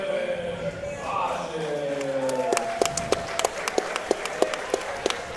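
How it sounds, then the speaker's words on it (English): Slow, light golf clapping by one person at a grappling event, about a dozen soft claps in an even rhythm, close and fairly loud, following a stretch of talking. "Do my little golf clap for that one."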